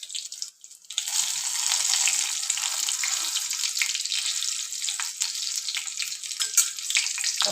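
Slit green chillies frying in hot oil, a steady close hiss of sizzling that starts after a brief quiet moment and runs continuously with small crackles, no voices.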